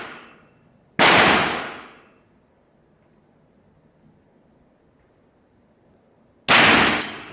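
Two sharp, loud gunshots fired by a shooter learning at an indoor shooting range, spaced several seconds apart, each a sudden broadband crack with a decaying echo, separated by quiet room tone.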